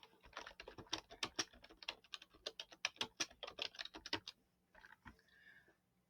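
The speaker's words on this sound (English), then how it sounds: "Let me go ahead and type it." Fingers typing quickly on a computer keyboard, a dense run of crisp close clicks for about four seconds, then a few isolated keystrokes and a pause, with no speech.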